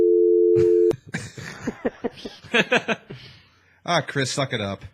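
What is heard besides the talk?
telephone dial tone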